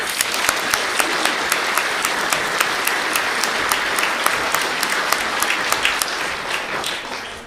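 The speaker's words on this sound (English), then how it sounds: "Give her a round of applause." A school awards ceremony audience gives a steady, full round of applause, dense clapping held at an even loudness throughout.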